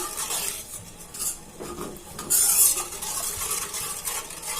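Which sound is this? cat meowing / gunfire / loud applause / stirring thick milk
stirring thick milk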